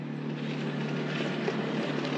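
An Audi A4 cabriolet engine runs steadily on a test bench, a smooth, unbroken close drone with a constant low hum and no other sounds.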